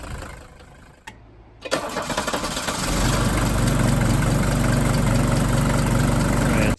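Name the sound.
Mercedes 300CD diesel engine running rough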